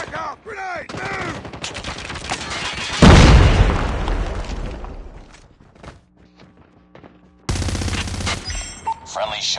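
Gunfire and a loud grenade blast ring out in a multiplayer shooter video game during a hardpoint fight, with sharp shots, then a booming explosion that decays, and more firing returning after a short lull, with game voices calling out.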